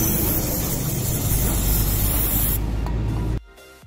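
Car cleaner sprays in a long, loud, continuous hiss onto the throttle body of a Nissan X-Trail that has a throttle position sensor fault, then cuts off abruptly near the end, leaving faint background noise.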